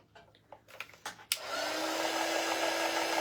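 A few faint clicks and handling taps, then a hair dryer switches on and blows steadily to dry paint on a wooden snowman shelf-sitter craft cutout, a close, constant whooshing hum.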